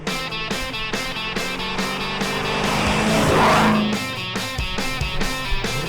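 A 1972 Dodge Charger Special Edition with a 400 Magnum V8 and 4-speed manual pulls away, engine revving in rising and falling bursts, with a louder swelling pass in the middle before quieter throttle blips.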